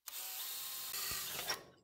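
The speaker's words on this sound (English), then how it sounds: "Drill a couple of pilot holes" A power drill whines briefly, bites into sheet metal drilling a pilot hole in a 1964 Impala SS body panel with a grinding buzz, then spins down, close and alone.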